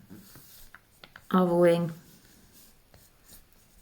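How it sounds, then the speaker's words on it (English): A permanent pen draws a shape on thin plastic, making soft scratchy strokes that run quietly beneath a person talking. "if you take a pen, this one I think is a permanent one, you can just draw the shape"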